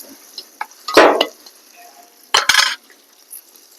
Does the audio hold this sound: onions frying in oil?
yes